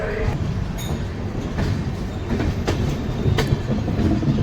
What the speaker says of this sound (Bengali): ধীরে ধীরে ট্রেন খড়গপুর জংশন থেকে বেরিয়ে যাচ্ছে